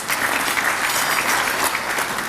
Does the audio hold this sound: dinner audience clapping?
yes